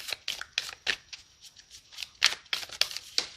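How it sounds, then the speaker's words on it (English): Tarot cards are shuffled by hand for a pick-a-card reading, making a quick run of crisp riffling bursts in an uneven rhythm, close and clear with no talk. "So as I'm shuffling"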